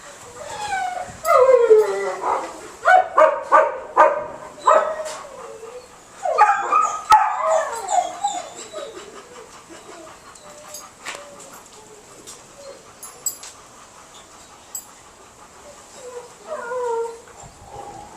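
A small dog whimpers and yips in high, strained bursts mixed with low growls, loud and close at first, then quieter, more sporadic whines with a few more flurries near the end.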